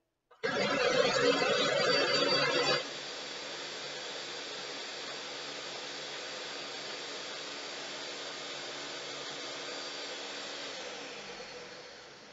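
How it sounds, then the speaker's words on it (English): A loud, harsh blender motor whirs up suddenly with a gritty burst while mixing a minty drink, then settles into a steady droning hum for several seconds before trailing off. "So this is one reason why bartenders hate blenders. They're noisy as hell."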